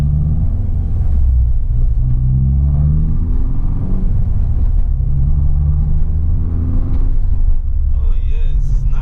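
A straight-piped R56 Mini Cooper S rumbles loud and low while driving in regular mode, its exhaust note rising and falling with the throttle as someone talks over it.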